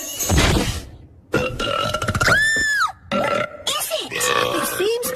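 Exaggerated cartoon burps pour out of a magic box in a children's animated fairy-kingdom show, a run of several loud, wobbly eructations with squeaky warbling tones between bursts.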